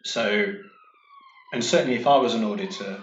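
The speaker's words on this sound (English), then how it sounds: "sorry about the siren there." A siren wails faintly in the background, its tone gliding downward between bursts of someone talking.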